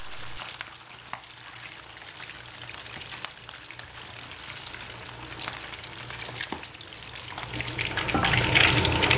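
Steady sizzling of chicken frying in hot oil, with small pops and crackles that swell louder toward the end.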